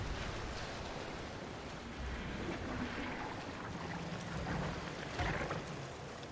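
A steady rushing waterfall in Resident Evil 3 fills the scene, a constant broadband roar of falling water with slight swells and no voices.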